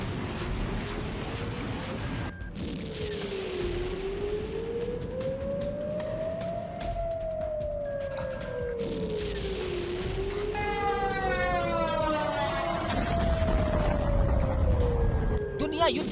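A wartime air raid siren in Ukraine wails slowly up and down in long rising and falling sweeps, loud and continuous over a rumbling background.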